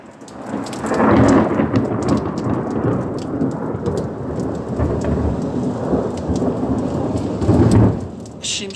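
A heavy thunderstorm: steady, loud rain pattering on surfaces under deep rolling thunder, with stronger rumbles swelling near the start and again near the end.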